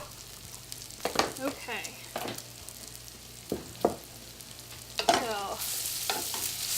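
Bacon rendering its fat in a pan, a continuous soft sizzle broken by stirring scrapes and clacks of a utensil, with a brief word spoken nearby.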